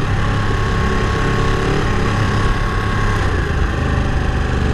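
A Ducati 959 Panigale motorcycle cruising steadily at about 40 km/h, a loud, continuous engine drone with heavy wind rush that holds constant throughout, with no voices.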